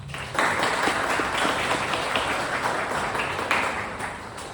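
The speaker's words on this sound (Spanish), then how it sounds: "le recibimos con un fuerte aplauso" Audience applause greets a guest speaker at a Spanish-language panel on decolonizing politics, a steady wash of clapping from a room of listeners that starts abruptly and holds at a fairly loud, even level for several seconds.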